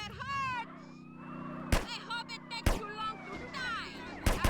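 Sharp, loud Desert Eagle pistol shots ring out in GTA San Andreas: three separate blasts spaced about a second apart, over game sounds with a rising whistle and background chatter.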